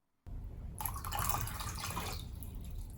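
Water runs and spatters into a basin, starting abruptly after a short silence and swelling into a bright, close, continuous splashing trickle that holds steady before easing slightly.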